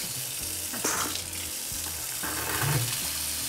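Water runs steadily from a bath tap boosted by a HomeBoost mains water booster, with a constant rushing hiss, a few knocks and a faint voice briefly in the background.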